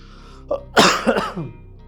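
A single sharp cough, close to the microphone, with a shorter throat-clearing burst right after, then quiet.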